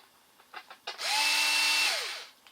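A power screwdriver backs out motor screws on an RC car: a few short clicks and handling taps, then one sustained high whirring burst of about a second that winds down, close up with no talk.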